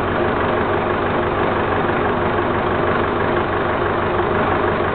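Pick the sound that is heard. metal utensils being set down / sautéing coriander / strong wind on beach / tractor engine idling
tractor engine idling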